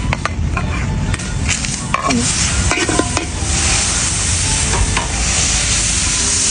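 Butter sizzles steadily in a hot wok-style pan, a continuous loud crackle with scattered utensil scrapes and clinks throughout, no voices.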